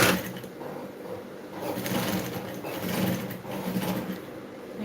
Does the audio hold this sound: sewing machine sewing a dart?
yes